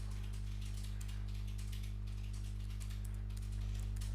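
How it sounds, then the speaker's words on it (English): Rapid clicking keystrokes on a computer keyboard while entering a login ID and password, a steady close patter of taps over a constant low electrical hum, with no voices. "typing my ID,"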